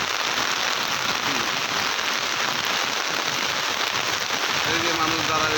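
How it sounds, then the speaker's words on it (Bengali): Steady rain falls at a river landing by the water-bus stairs, where boatmen row, making a dense, unbroken hiss that stays constant and fairly loud throughout. "ভালো বৃষ্টি নামছে, ভালো বৃষ্টি ধাম।"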